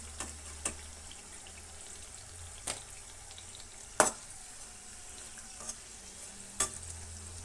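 Sweet jackfruit chips fry in oil with a steady soft sizzle, broken by several sharp clicks of a utensil against the pan at irregular intervals.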